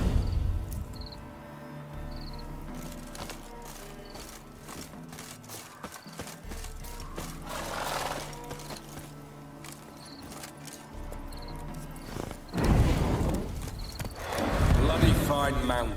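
Horse hooves clip-clop in a steady walking rhythm in The Witcher 3: Wild Hunt Remastered on PS5, close and distinct beneath ongoing dialogue, with the hoofbeats growing busier near the end.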